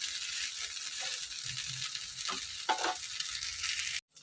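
A pesarattu, a moong dal dosa, crisps in a lightly oiled pan, giving a quiet, even sizzle with a few soft scrapes and taps before it cuts out.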